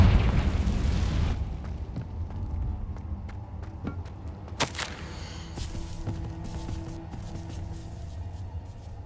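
In the wizarding game Hogwarts Legacy, a Confringo fire spell erupts in a loud, heavy boom that decays into rumbling debris, followed by a sharper burst and scattered thuds and clicks in quieter surroundings.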